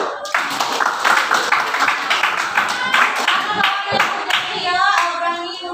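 A classroom group performs the tepuk jempol clap chant, rhythmic bursts of hand claps mixed with chanted voices, fairly close and lively throughout.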